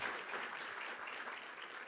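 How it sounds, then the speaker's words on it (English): An audience at a council swearing-in ceremony gives Marco a sustained round of applause, steady and even clapping from a crowd without any voices. "Let's give Marco another round of applause."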